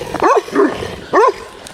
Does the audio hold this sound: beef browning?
no